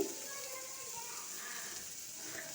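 Vegetables and green tomatoes frying in a pan for North Karnataka chutney give a steady, soft sizzle that runs unbroken throughout, close by and fairly quiet, with no talking.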